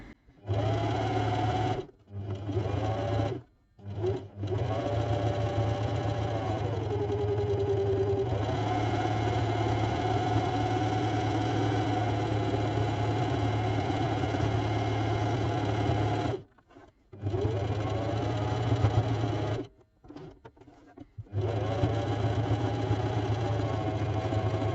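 A domestic sewing machine stitches around the edges of a reverse appliqué leaf, running in long steady bursts with a few brief pauses and restarts, close and loud with no talking.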